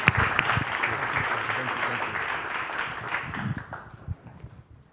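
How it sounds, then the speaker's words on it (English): An audience applauds a panel with dense, steady clapping that starts loud and fades out over several seconds. "a huge round of applause for our amazing panel"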